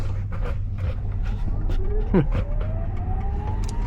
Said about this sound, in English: So people keep saying that they don't like the sound of electric vehicles.